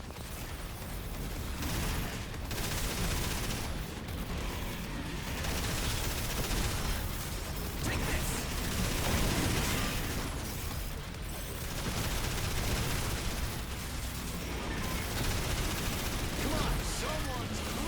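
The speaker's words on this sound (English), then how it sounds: "Just keep shooting that back leg until he drops." Rapid gunfire from the Daemon X Machina video game while fighting a boss, a dense continuous barrage of shots and mechanical bursts that stays loud across the whole stretch.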